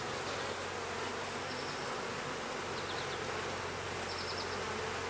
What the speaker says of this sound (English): There's a few bees in the air now